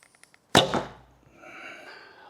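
Arrow shot from a bow during a speed test: a few faint ticks, then one sharp loud release crack followed by a decaying twang and brief hum, close by.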